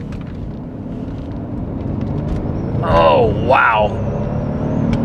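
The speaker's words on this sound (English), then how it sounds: "When those turbos kick in, it's an experience." Mercedes S65 AMG with a twin-turbo V12 accelerating, a deep engine drone building steadily from inside the car while an occupant lets out a short excited exclamation.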